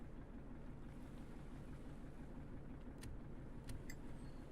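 Boat engines running in the Stormworks video game, a low, steady rumble with a wash of water and wind noise, faint and continuous with a few small clicks near the end.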